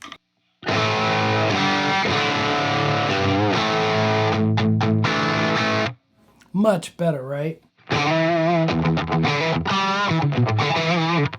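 Heavily distorted electric guitar with Yngwie Malmsteen-style pickups through a Marshall amp turned up to 10 plays loud, sustained chords and riffs, stops briefly for a short spoken remark, then resumes with bending lead lines.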